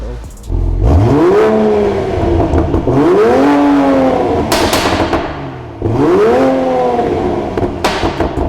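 Toyota Supra with a Milltek exhaust system revving hard three times, each pull rising sharply then falling back to idle, loud and close with no talking.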